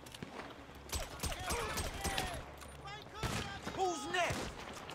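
Gunshots in Grand Theft Auto V, a scattered series of sharp pistol cracks over game music and effects, with someone talking at intervals.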